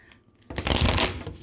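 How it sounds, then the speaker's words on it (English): Tarot cards shuffled by hand: a sudden burst of dense riffling and flapping that begins after a short quiet pause and carries on loudly and close to the end, with no talking. "gonna shuffle one more."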